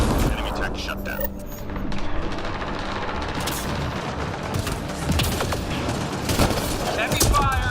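Heavy gunfire in the video game Mass Effect Andromeda: dense, continuous bursts of shots and booms roll on throughout, close and loud, with voices talking over the battle.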